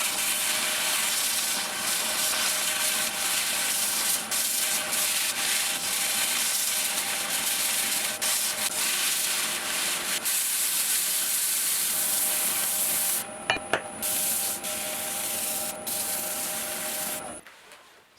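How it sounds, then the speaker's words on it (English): A zebrano wood bowl spinning on a lathe is sanded with 80-grit paper, making a loud, continuous abrasive rubbing hiss that runs unbroken for many seconds, with a few brief scrapes near the end before it stops. "I'm going to move on to sanding. I'm going to start with 80 grit"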